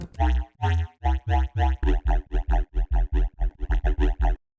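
A choppy Serum 2 riddim synth bass riff through a diffuser filter, with rapid rhythmic stabs, a run of short gated bursts that speed up toward the end.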